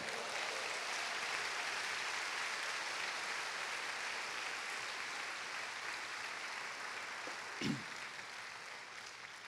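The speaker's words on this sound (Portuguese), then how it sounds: "Com lindo aplauso" Sustained applause fills a Sunday church worship service, a steady dense wash of many hands clapping that eases slightly toward the end, with a brief thump near the close.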